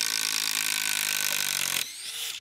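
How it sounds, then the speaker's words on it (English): A cordless power drill running on a Power Stack battery and boring into wood whines loud and steady, then the bit pulls out and the motor winds up to a higher, freer pitch before stopping abruptly. "Now you can hear the drill wind up a little bit"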